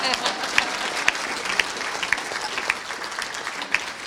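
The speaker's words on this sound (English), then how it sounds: "I'd just like to have a round of applause for rule-breaking Catholic nuns." An audience at a palliative care panel discussion applauding steadily, clapping filling the room with a few sharper claps standing out near the front.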